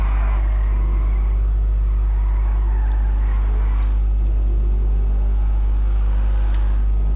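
Deep, steady engine drone of an 1100-horsepower race car in GTA, holding a constant low rumble for the whole stretch with faint higher whines above and no talking.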